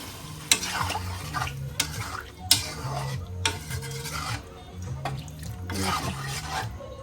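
Broth goes into a simmering curry of koi and shing fish with papaya, producing close stirring scrapes and liquid sloshing with a faint sizzle underneath, broken by a few sharp clacks of a utensil against the pot.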